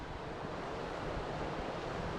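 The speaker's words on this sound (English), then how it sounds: "Today it's a proper chilly wind, 4 degrees." A chilly wind blows steadily through a wild Scottish glen near the River Isla on a four-degree day, a constant low rumbling roar buffeting the microphone with no voices.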